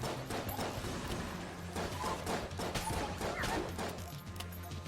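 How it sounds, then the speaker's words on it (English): Rapid automatic gunfire in Enter the Gungeon, a dense stream of small popping shots running nonstop over game background sounds. "Why is my gun automatically firing?"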